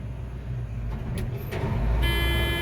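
The engine of a farm harvesting machine with a header starts up and runs in a steady low drone, with a brief higher whine and a rising tone as it comes up to speed.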